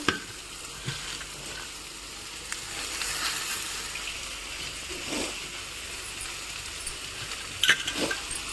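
Lentils fry in hot oil in a pan for chutney, giving a steady bright sizzle with occasional soft stirring scrapes and small pops, close by.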